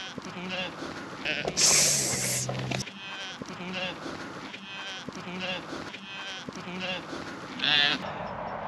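Sheep bleat repeatedly in a noisy outdoor scene, with people talking throughout and a burst of loud hiss partway through.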